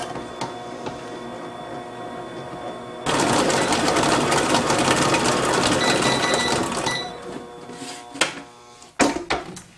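Electric hand mixer whirs steadily through cookie-bar batter with a tablespoon of vanilla, a loud continuous motor drone starting a few seconds in and running for about four seconds before stopping, followed by a few clinks.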